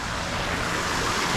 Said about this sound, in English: it's kind of hard to hear me over the water trickling